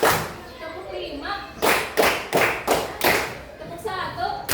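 Children clap together in a rhythmic classroom ice-breaker counting game, sharp group claps landing in bursts of one, two and several beats, close and fairly loud with a teacher's call underneath.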